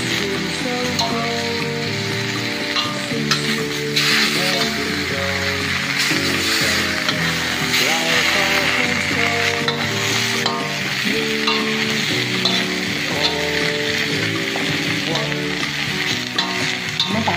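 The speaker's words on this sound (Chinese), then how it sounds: "煎香" Small prawns sizzle loudly in a wok with oyster sauce, a steady close frying hiss with occasional stirring clinks from tongs, no talking.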